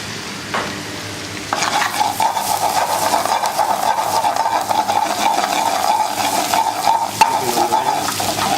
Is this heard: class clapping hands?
no